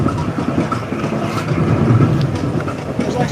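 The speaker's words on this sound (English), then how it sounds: "wait for the train to come by" A roller coaster train at Knott's Berry Farm rumbles past with steady rolling clatter and a low drone, moderately close, with faint background noise and some voices beneath.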